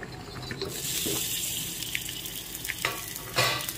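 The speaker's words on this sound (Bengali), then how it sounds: "তেলটা গরম করে নিয়েছি, এবার আমি পটলগুলোকে দিয়ে দিচ্ছি।" Pointed gourds go into hot oil in a pan, raising a steady broadband hiss of frying that swells and stays loud, with a few brief bright crackles near the end and no voices.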